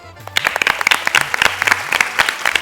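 An audience at an Oppana reality show bursts into dense applause, many hands clapping together close by, loud and sustained for a few seconds after a brief quiet start.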